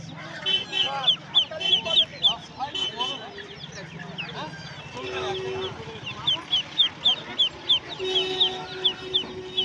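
Poultry market stalls selling ducklings and fowl, with dense high peeping chirps and scattered clucks and calls throughout, voices talking underneath and a few honking notes rising near the end.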